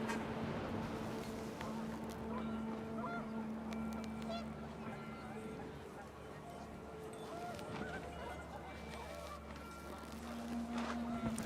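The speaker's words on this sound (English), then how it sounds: "The wind picked up and panicked geese appeared and quickly went." Panicked geese honk in a narrative PC video game, with repeated honks rising over a steady wind-like hum and other ambient game noise, while a voice talks over it.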